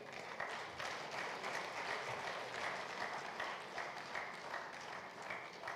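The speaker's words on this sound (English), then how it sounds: "please join me in welcoming them to the stage with a very warm and generous round of applause" Audience at a geological survey seminar applauding guests onto the stage, a sustained, even round of many hands clapping, fairly distant and continuous, with no one speaking.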